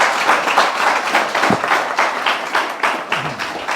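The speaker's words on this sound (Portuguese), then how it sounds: "Pode dar uma salva de palmas para o Senhor Jesus?" A large church congregation claps continuously and loudly, with dense, rhythmic applause that barely varies over several seconds.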